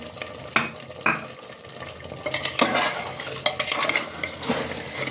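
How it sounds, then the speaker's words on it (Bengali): Mutton curry is stirred in a pan, a low sizzle underneath with loud, uneven metal scrapes and clatters of the spoon against the pan, close by and with no one talking. "আবার একটু নাড়াচাড়া করে দিচ্ছি হতে থাক"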